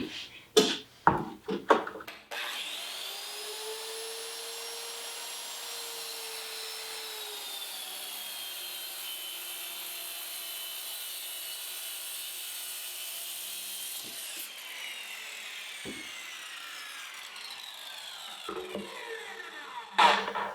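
A circular saw cuts a sheet of plywood along a guide, with a few clunks, then a long, steady high whine through the wood that winds down, followed by brief handling knocks.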